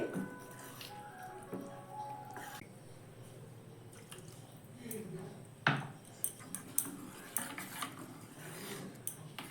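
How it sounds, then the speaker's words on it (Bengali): Cake batter is whisked with water in a bowl, producing soft, faint clinks and wet scraping taps that grow more frequent toward the end, with light background noise. "আবারও অল্প অল্প করে জল দিয়ে আমি ভালো করে কিন্তু ফেটিয়ে নিচ্ছি এটাকে"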